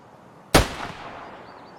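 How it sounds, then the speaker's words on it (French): A single sharp rifle shot from the video game Escape from Tarkov bursts out loud and close after near silence, followed by a short echoing tail that fades over about a second. "Je vais essayer de lui mettre une balle en pleine tête."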